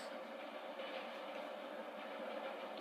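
A video game train rolls along the track, giving a faint, steady rumble and rattle from a distance with no clear breaks.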